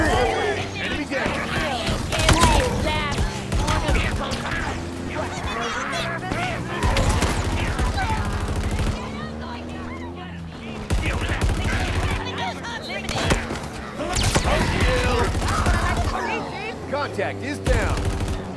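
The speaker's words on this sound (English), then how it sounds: "Enemy fire!" Enemy gunfire in the video game Halo Infinite, with dense rapid bursts and fusillades running throughout, loud and close, mixed with shouting voices and other battle noise.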